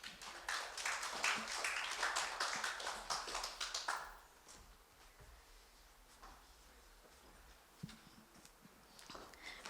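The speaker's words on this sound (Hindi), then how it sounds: "सो हम ज़ोरदार तालियां से उसके स्वागत करें." A church congregation at a revival service applauds to welcome a first-time preacher: dense clapping fills the first four seconds, then fades into quiet room noise with a few scattered claps and faint voices.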